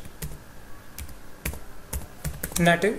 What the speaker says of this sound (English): For this we have to type react-native